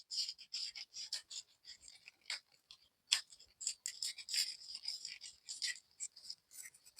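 Scissors snip through fabric while a shawl collar suit pattern is cut: a quiet, close series of irregular crisp snips and rustles with brief pauses, and no speech.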